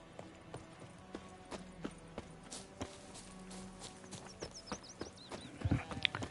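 Horse hooves of a rider giving chase in The Witcher video game, a steady clip-clop of hoofbeats with brief whinny-like calls, growing louder and closer toward the end, without speech.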